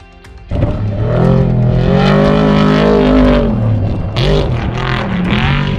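Race vehicles at the 2022 Finke Desert Race prologue in the Australian outback, engines roaring loud and close as they rev and accelerate past, with a sharp surge of noise near the end.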